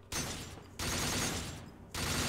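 Rapid gunfire bursts from the Devil May Cry 4 video game, played on Son of Sparda mode, come in three dense, loud barrages separated by short pauses.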